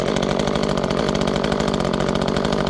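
An Echo CS-355T chainsaw engine idles steadily while warming up, a loud, close, continuous buzzing drone with a fast even pulse and no talking.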